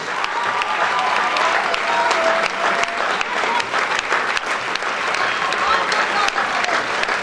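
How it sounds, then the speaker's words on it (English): A college event audience applauds loudly in a sustained burst of crowd clapping, with voices talking over it. "a huge round of applause for"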